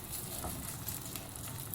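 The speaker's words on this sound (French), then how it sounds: "Je fais fondre mon beurre." About fifty grams of butter melting in a frying pan over a gas flame, giving a soft, continuous crackling sizzle with faint pops, quiet and steady with no voices.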